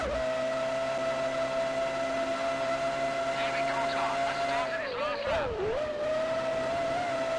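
A Formula One car engine in the F1 2003 video game screams at a steady high pitch, then dips and warbles as it overtakes another car at the Italian Grand Prix, with game audio running throughout.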